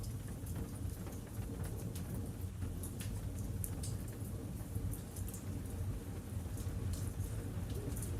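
Steady rain falling outdoors, a soft continuous patter with a low rumbling undertone, even and fairly faint throughout.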